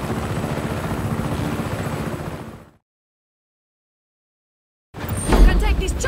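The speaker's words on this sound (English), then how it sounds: "You can take this chopper, Fratre." A helicopter in the PS4 game Just Cause 3 sends out a steady whirring rotor drone that cuts to silence for a couple of seconds, then returns louder.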